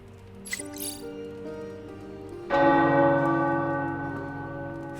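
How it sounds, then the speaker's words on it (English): Tower bells in the video game Marvel's Midnight Suns, a few soft tones followed by a strong, resonant bell strike that rings out and slowly decays. "The tower bells are ringing."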